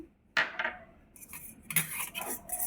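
Chopped curry leaves being mixed into a bowl for bread omelette, heard as sharp, close clinks and scrapes of a spoon against the dish in a few irregular bursts.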